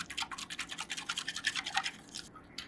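A spoon stirs coffee in a cup with quick, rhythmic clinking and swishing, close and fairly quiet, fading out after about two seconds.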